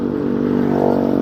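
A motorcycle on a touring ride pulls away and accelerates, its engine a steady rising drone heard close up with a slight rattling texture, no talking.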